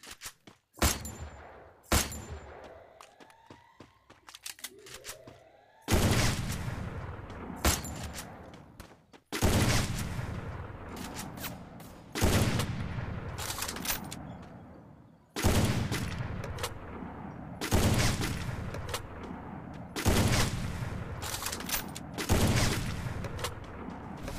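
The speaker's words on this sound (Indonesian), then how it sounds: "kita akan memakai sniper" Sniper rifle fire in the video game Free Fire: loud, booming shots come in a long series, each followed by a ringing tail, with short pauses between groups and a few quicker bursts early on.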